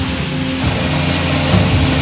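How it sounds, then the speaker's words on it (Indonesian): Hercules transport aircraft carrying relief supplies landing at Minangkabau International Airport in Padang, West Sumatra, giving a loud, steady propeller-engine roar with droning low tones that fills the whole moment without pause. "Dua pesawat Hercules membawa bantuan mendarat di Bandara Internasional Minangkabau"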